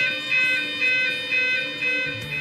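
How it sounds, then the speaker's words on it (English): Loud electronic fire alarm siren sounding continuously, its pitch alternating between two tones in a steady repeating cycle. "The site alarm is a continuous two-tone siren and sounds like this."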